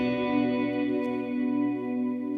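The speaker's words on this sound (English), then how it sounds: "hear that tremolo is really slow" Sustained electric guitar chord through a Catalinbread Tremolo8 pedal played softly, a steady ringing tone with a slow, gentle pulsing swell in volume, alone and fairly quiet.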